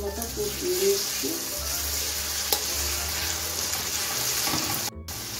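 Ginger and garlic fry in a pan over medium heat for mutton kosha, a steady soft sizzle with stirring scrapes, then a brief pause near the end.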